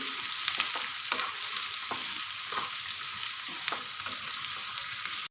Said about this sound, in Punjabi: ਤੇ ਹੁਣ ਮੈਂ ਇਹਦੇ ਵਿੱਚ ਪਾਵਾਂਗੀ ਪਿਆਜ਼ ਪਿਆਜ਼ਾਂ ਨੂੰ ਕਰਾਂਗੇ ਗੋਲਡਨ ਬ੍ਰਾਊਨ